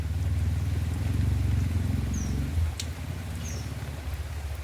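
Steady rain falling outdoors on a rural homestead where goats are being brought in, a dense continuous hiss with low rumble and a couple of faint bird chirps, fairly close and even throughout.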